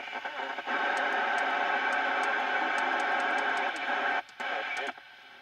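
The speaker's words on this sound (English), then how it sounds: "Just sounds like a dead carrier to me" Steady static hiss from a Thunderpole T-800 CB radio tuned to a dead carrier, a flat, continuous rushing tone with faint ticks, cutting out briefly near the end before fading quietly.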